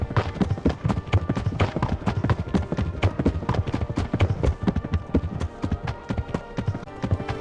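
Horse hooves gallop in Kingdom Come: Deliverance, a rapid, steady clip-clop that stays loud and close throughout.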